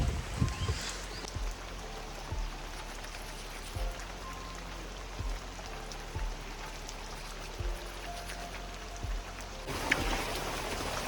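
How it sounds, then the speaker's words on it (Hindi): Heavy rain falls steadily in an Arunachal Pradesh village, a soft continuous patter with occasional louder drips and knocks close by, no one speaking. "बारिश ही बारिश गाइस, क्या होगा मालूम नहीं आज का मौसम"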